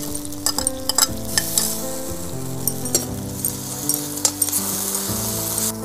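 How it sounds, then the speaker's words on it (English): Ginger garlic paste and onions sauté in a pan for a Bodo chicken and bamboo shoot curry, with loud, close sizzling, brisk stirring scrapes and occasional utensil clinks, while a steady background hum runs throughout. "We'll saute this till the raw ginger garlic paste smell burns."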